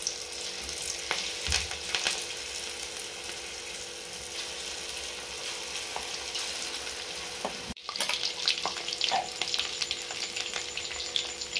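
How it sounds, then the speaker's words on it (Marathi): Urad dal bhaje fritters frying in hot oil, with a steady, dense sizzle and crackle throughout and a brief dip near the end before the bubbling resumes. "आता मी ह्याचे भजे तळून घेते।"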